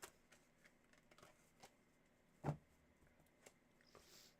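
Tarot cards are shuffled by hand, heard as quiet, scattered papery taps and soft riffles with one sharper slap partway through, close and otherwise hushed.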